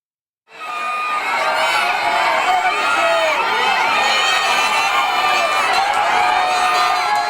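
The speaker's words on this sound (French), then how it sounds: "La clameur de la foule, l'adrénaline au passage de la ligne d'arrivée" A large crowd at a horse racecourse cheers and shouts in a loud, sustained roar that swells suddenly and holds steady, with whoops and voices blending into a dense wall of sound.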